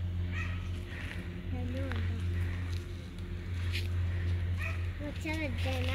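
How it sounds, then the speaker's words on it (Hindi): A pet dog makes short yips and whimpering calls a few times, heard faintly at close range over a steady low hum inside a store during grocery shopping. "हमारा डॉगी कहाँ बोल रहा है"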